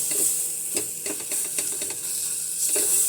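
Bhindi masala spices with besan cook in a pan over a low flame, a soft continuous sizzle with steady hiss underneath and repeated scraping stirs at an irregular rhythm, fairly close.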